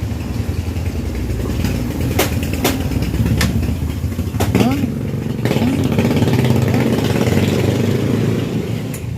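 A motorcycle being serviced for a long ride idles steadily nearby with a loud, continuous engine drone, a few sharp metallic clicks over it, while people talk.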